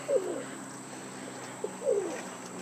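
Two soft, low coos from trumpeter pigeons, one early and one near the end, fairly close against a quiet background hiss.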